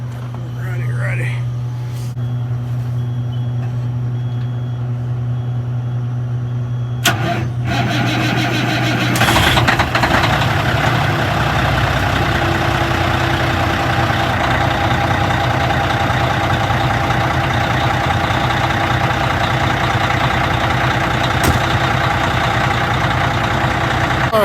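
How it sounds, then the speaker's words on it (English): A truck engine idles with a steady low rumble, starting up partway through and running continuously with a mechanical hum; brief voices are heard early on. "Now let me start the truck"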